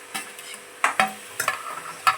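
Brinjal, moth beans and potato curry stirred in a pan over a high flame, a few quick scraping strokes and clinks at irregular intervals, close and with no voices.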